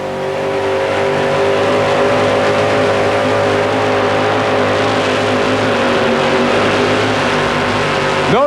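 A 4WD pulling truck at a 1991 Tampa Stadium truck pull holds its engine at high RPM, a loud, sustained, throbbing roar with a slight pitch dip and recovery near the end.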